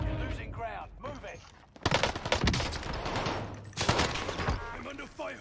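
Gunfire in Call of Duty Warzone, likely a Volkssturmgewehr rifle, erupts in loud rapid volleys after a quieter stretch of talk, with dense overlapping shots continuing to the end.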